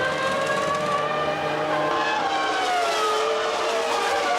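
Mika Häkkinen's McLaren Formula 1 car at a 1999 pit stop gives a steady, loud, high-pitched engine whine with layered tones, heard alone and continuously throughout.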